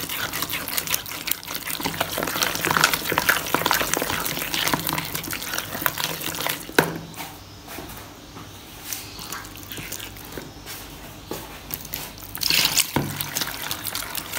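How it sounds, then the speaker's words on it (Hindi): Water pours and splashes into a bowl of batter for haleem in a steady rush for several seconds, then eases into quieter wet sloshing and mixing. "पानी मैंने और ऐड किया है"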